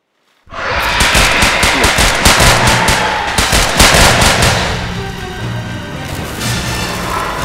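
Sustained machine gun fire rattles loud and close in a Jurassic World fan film, rapid bursts running for several seconds and easing slightly toward the end, with no talk over it.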